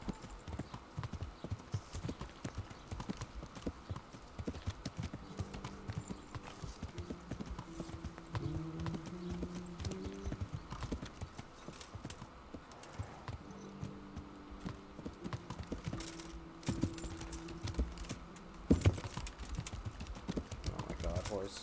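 Rapid hoofbeats of a galloping horse drum on continuously in the video game Kingdom Come: Deliverance, with occasional tonal music-like notes and a brief whinny near the end.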